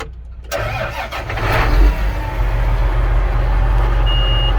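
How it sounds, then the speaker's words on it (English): A farm tractor engine starts during a corn harvest, a loud low rumble catching after a moment of near silence and then settling into a steady, heavy running drone close by, with a faint high tone briefly audible. "Turn on the tractor."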